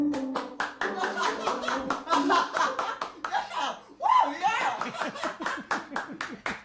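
Scattered audience clapping with some laughter, under near, continuous talk throughout, the claps coming as a steady patter behind the voices.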